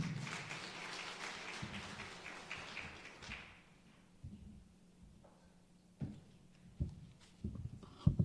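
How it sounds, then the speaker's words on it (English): A conference audience claps to welcome a session moderator, a moderate round of applause for about three seconds that fades, followed by scattered thumps and taps in a quiet hall. "let's give a warm round of applause to welcome our moderator for this session"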